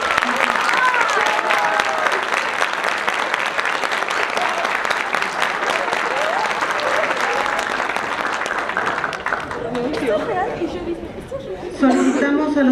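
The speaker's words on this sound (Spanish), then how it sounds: "Un gran aplauso para el CBT Tecámac" A crowd at a 2023 school hymn-singing ceremony claps loudly and continuously for the first-place team from CBT Tecámac, with chatter mixed in; the applause fades near the end as an announcer begins speaking.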